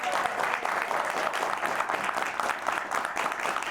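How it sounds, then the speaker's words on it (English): A live audience at a Chicago talk show event applauds steadily, a dense wash of many hands clapping together at moderate distance, sustained without pause. "Let me hear some applause"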